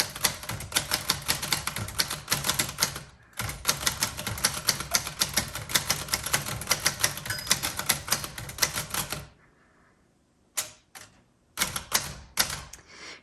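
A 1939 Remington Model 1 manual typewriter typing a sentence: rapid, close, crisp keystrikes in a dense run, a brief pause, then more clacking, followed by a quiet gap and a few final sharp strikes.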